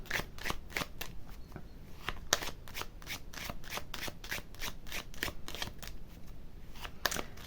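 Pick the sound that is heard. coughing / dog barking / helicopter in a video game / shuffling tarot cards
shuffling tarot cards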